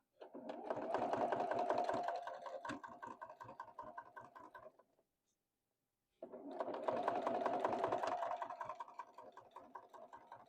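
A home sewing machine stitches a boxy fabric bag in two steady runs of rapid needle chatter, each lasting a few seconds, with a short silent pause between them.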